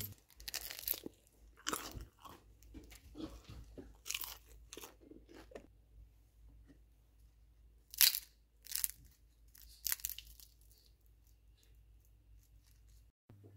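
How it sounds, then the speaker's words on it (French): Close, crisp crunching of flaky air-fried pastry comes in separate bites and breaks, loud snaps between quiet pauses. "je vous fais écouter vraiment le croustillant"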